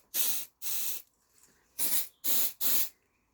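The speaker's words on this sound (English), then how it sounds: "this spray that I'm using works quite well and it doesn't actually contaminate the detectors" Aerosol smoke-detector test spray released in five sharp hissing bursts, each about half a second, during a garage fire alarm test, close and loud with short silent gaps between.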